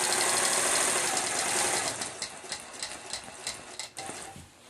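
Quilting machine set to manual mode stitching a feather motif with a pebble-filled center, a steady high mechanical whir that gives way to a rapid, uneven run of stitching pulses, close and alone.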